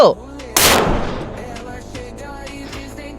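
A single loud, sharp sniper rifle shot with a booming echo that fades out, followed by quieter background sounds.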